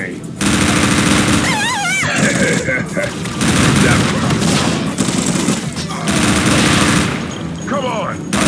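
Sustained, loud rapid-fire rifle bursts in Unreal Tournament 2004 with Ballistic Weapons, a team deathmatch, rattling almost nonstop with brief lulls and voices mixed in.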